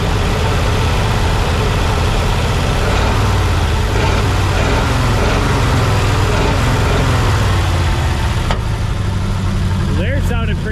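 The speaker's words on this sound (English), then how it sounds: "there it sounded pretty good, a couple little backfires" Engine of a 1940 Mercury running loud and close, a steady rough drone that rises and falls, with a sharp break near the end that could be a backfire.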